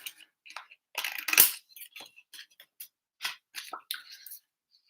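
Scissors snipping windows out of paper for a craft, a series of short, close, irregular cuts with one louder chop, alone without talk.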